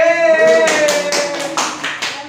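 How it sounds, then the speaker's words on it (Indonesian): Hand clapping in a school classroom during a student teaching session, a few distinct claps rising over a lingering sustained tone, fairly close and loud. "Tepuk tangan"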